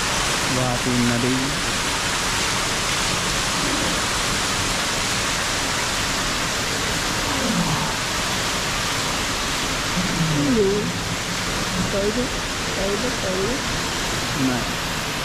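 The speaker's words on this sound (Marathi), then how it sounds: "वाहती नदी" A flowing river rushes in a constant, loud broadband wash, with people's voices talking intermittently over it.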